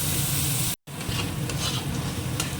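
Chopped onion fries in a pan with a continuous close hiss and crackle, broken by a brief silent cut, and stirring sounds come through over the sizzle.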